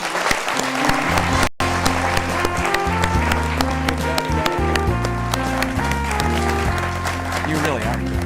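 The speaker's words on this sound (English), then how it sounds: "Audience, let's give a round of applause for our candidates." A studio audience at a televised U.S. Senate candidate forum claps in sustained, dense applause, loud and continuous throughout, with music playing underneath.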